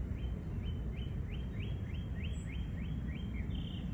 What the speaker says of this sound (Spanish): Cantan lindo los pajaritos, qué paz.